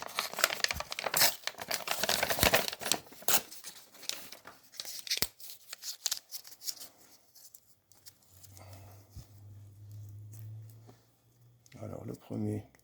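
Paper crumpled and torn by hand as wadding for loading a revolver cylinder with different fuels, close-up crinkling and ripping for several seconds, with a speaking voice in between and a low hum later.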